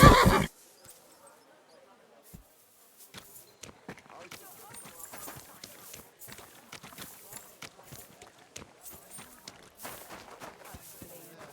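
A horse whinnies loudly at the start in the video game Kingdom Come: Deliverance II, then hooves clop steadily on hard ground with scattered snorts and shuffling, fairly close.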